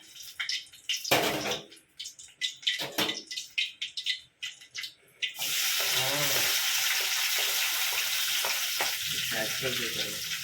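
Tomatoes drop into hot oil in a pan in a village kitchen and set off a loud, steady sizzle, after a few seconds of clattering utensils and people talking.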